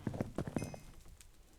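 A horse plods in a steady clip-clop of hoof steps, walking around a horse-powered crusher machine in a modded Minecraft world, SevTech Ages. About five close, evenly spaced thuds come in the first second, then it goes quiet.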